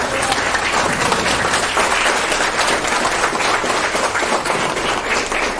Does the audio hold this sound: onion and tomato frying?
no